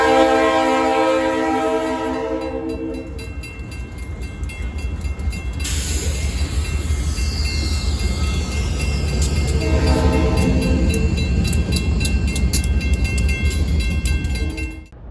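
A train with three locomotives rumbles past close by at a road crossing, with a loud horn blast near the start, steady rolling and clattering of wheels continuing as it passes.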